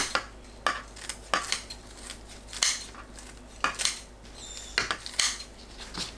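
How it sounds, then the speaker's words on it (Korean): A knife slices dried pollack (hwangtae) into pieces on a cutting board, with sharp, close, clicking chops about every half second and no talking. "황태포를 3-4cm 간격으로 썰어주세요."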